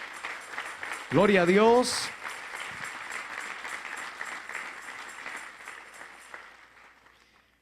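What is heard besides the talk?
church congregation applauding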